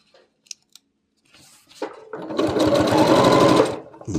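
An Elna 720 sewing machine with a hemmer foot starts with a few clicks, then runs steadily and loudly for about two seconds with a fast, even mechanical whir.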